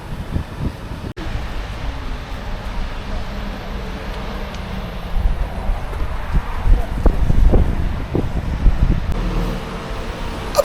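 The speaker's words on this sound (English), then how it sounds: "As you can hear, it's pretty wild and windy out here today." Strong wind on the Isle of Wight near a ferry buffets the microphone in heavy gusts, rumbling and roaring louder toward the end, with faint traffic noise in the background.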